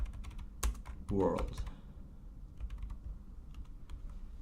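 Computer keyboard keys clatter in quick bursts while someone types code, the clicks running under a person speaking.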